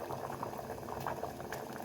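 Puri bubbles in hot oil in a deep-frying pan, giving a close, continuous frothy sizzle with fine popping texture throughout this short moment, no voices.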